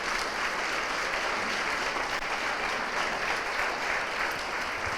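Church congregation clapping steadily for the Lord, a dense continuous wash of many hands applauding together at even loudness, with no voices standing out.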